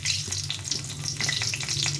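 Dried red chilies sizzle and crackle in hot oil, a dense steady frying hiss with quick pops, close and loud throughout.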